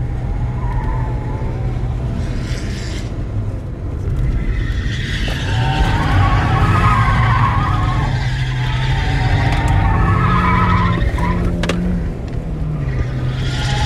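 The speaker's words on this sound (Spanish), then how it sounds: "iba derrapando más delante que de atrás ahí" A car drifting on a race circuit at a track-day session, with a continuous loud engine roar and long wavering tire squeals throughout.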